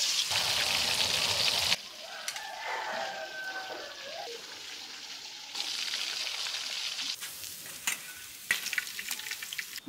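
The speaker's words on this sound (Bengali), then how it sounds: "মাছটা ভাজা হয়ে গেছে" Kalibaus fish frying in a pan, a steady close sizzle of hot oil that drops to a softer crackle with occasional stirring, then swells loud again in bursts.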